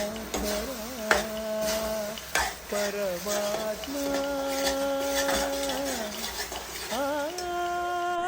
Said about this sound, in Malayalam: ഒരല്പം നെയ്യും കൂടെ ഇട്ട് ഒന്നും കൂടെ വരട്ടുകയാണ്. കൈവിടാതെ ഇളക്കിക്കൊണ്ടേയിരിക്കണം.